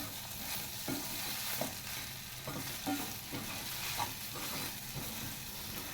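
Chopped idli tossed in a hot pan with spices crackles in a dense, constant fry, with repeated soft scrapes and knocks of a spatula stirring it throughout, close and unbroken by talk.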